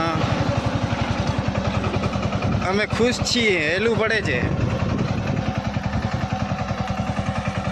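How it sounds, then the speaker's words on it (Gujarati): An Eicher tractor engine runs close by with a steady, throbbing, rhythmic chug, while people talk over it. "આઈસર ટ્રેક્ટર કેવું સારું આવે છે?"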